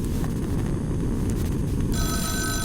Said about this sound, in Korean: 전화 왔어 전화 왔어 전화 받아